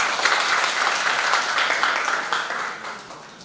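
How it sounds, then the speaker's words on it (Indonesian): A seminar audience of students breaks into applause after a breathing exercise, a dense, even wash of many hands clapping at close range that holds steady and then fades out toward the end. "tepuk tangan untuk kita semua"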